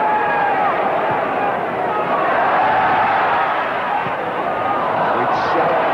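Football crowd at a 1968 Leeds United v Everton match roaring in a steady, loud, unbroken swell of massed voices that fills the stadium throughout.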